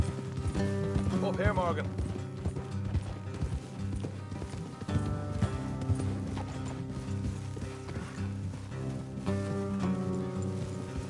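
Rhythmic clip-clop of horse hooves on a road in Red Dead Redemption 2, steady and mid-distance beneath a game music score, with a character briefly speaking.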